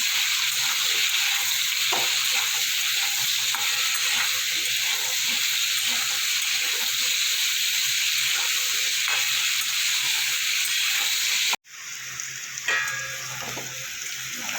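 Potatoes frying with a little turmeric in a pan, a continuous sizzling hiss with faint stirring clicks, briefly interrupted near the end before the sizzle resumes.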